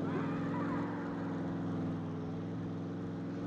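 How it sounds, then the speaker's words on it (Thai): A continuous engine drone of a vehicle driving nearby in the video game SCUM, steady and fairly faint with no talking. "มีคนขับรถมาแถวนี้แน่ๆเลยครับ"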